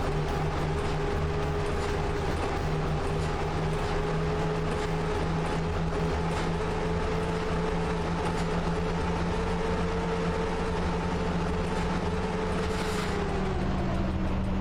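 A passenger train running in the Train Driver 2 simulator gives a steady low mechanical hum and rumble with a sustained engine drone and faint rattling, continuous and unchanging, with no talk.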